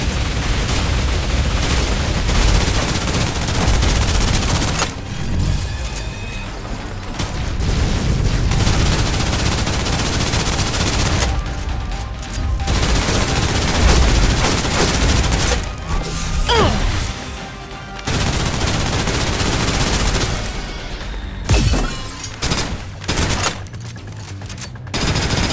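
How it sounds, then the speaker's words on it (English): Suppressive gunfire in the Snowbreak: Containment Zone video game: dense, loud bursts of automatic fire and impacts run almost continuously, with a few brief lulls between volleys. "Suppressive fire."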